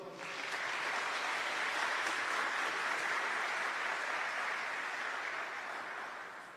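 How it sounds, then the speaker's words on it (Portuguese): An audience at a Catholic talk bursts into applause, a dense, steady wash of clapping that holds for several seconds before tapering off slightly at the end. "Pode aplaudir."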